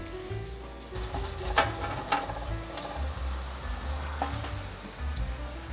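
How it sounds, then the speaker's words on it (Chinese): Vegan fish goes into a hot pan with vegetarian oyster sauce and potato, setting off a steady loud sizzle and frying crackle, with a few sharp spatula taps and stirring scrapes over it. "现在把素鱼放进来"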